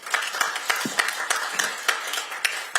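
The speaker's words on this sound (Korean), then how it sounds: "여러분 큰 박수 부탁드리겠습니다" An audience claps at a Korean panel event as a speaker is introduced, with sparse, fairly near individual claps forming an uneven rhythm rather than a dense roar.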